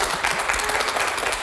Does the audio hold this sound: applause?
yes